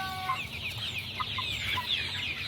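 A flock of about 800 Joper chickens, 38 days old, clucks and chatters inside a poultry coop floored with dry rice husk bedding, a busy overlapping murmur of many birds nearby, with no talking.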